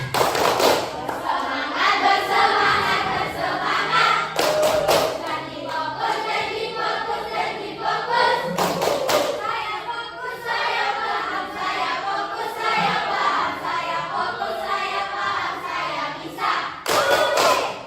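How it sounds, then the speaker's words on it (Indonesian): A group claps a rhythmic cheer clap in unison, sharp patterned bursts of hands repeating through the stretch with voices calling out between rounds. "1, 2, 3, tepuk semangat."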